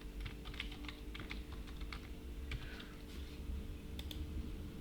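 Typing on a computer keyboard while running a beginner Python, Java or C++ program: quick bursts of light key clicks in an uneven rhythm over a steady low hum, faint and close, with no speech.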